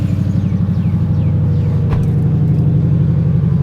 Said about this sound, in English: It's not loud, it's just a good little V8 rumble.